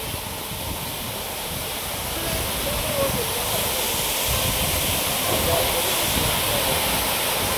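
Moopun waterfall in East Jaintia Hills, Meghalaya, rushes with a steady broadband roar that swells slightly louder and stays constant, with people talking faintly in the background.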